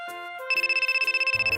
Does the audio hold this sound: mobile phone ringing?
yes